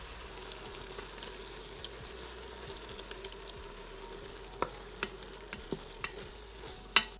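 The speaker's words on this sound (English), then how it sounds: "So now we're going to add our cup of Rao's marinara sauce" Rao's marinara sauce going into a pot of keto chili in a cramped home kitchen: a low steady sizzle runs throughout, with scattered soft clicks and spoon taps growing more frequent toward the end, ending in one sharper knock.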